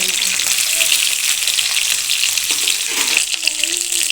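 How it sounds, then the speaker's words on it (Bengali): Pieces of pointed gourd (potol) sizzle in hot oil, a loud, continuous frying hiss with faint clinks from stirring. "পটলগুলোকে ভালো করে ভেজে নেব।"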